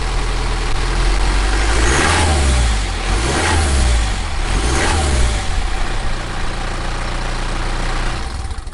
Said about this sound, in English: So now I'm going to give it all a quick start, make sure it's sounding alright, and give you all a listen to what it sounds like